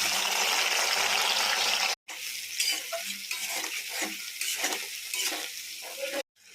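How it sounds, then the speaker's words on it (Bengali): Chopped onion and garlic hit hot oil with a loud, steady sizzle, then a brief silence, followed by quieter crackling frying with scraping stirs before cutting off. "ওই তেলে দিয়ে দিলাম পেঁয়াজ আর রসুন কুচি"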